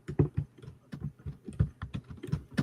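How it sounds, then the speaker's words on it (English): Someone types on a computer keyboard in quick, irregular bursts of close clicks. The keystrokes are fairly soft and there is no talking. "I think Kaleem might be typing something."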